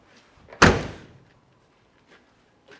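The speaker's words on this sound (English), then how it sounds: "Shut the door." A single solid thud of a 1970 Chevrolet Chevelle door shutting, close and clean, followed by quiet with faint small sounds.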